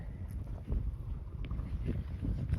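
Strong wind buffeting the microphone with a heavy, rumbling roar that rises and falls in gusts.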